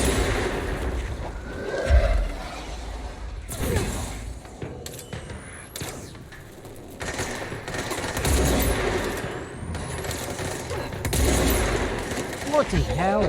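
Gunfire through walls in the video game Control: bursts of sharp, loud shots over a rumbling, chaotic combat background, with a voice speaking at times.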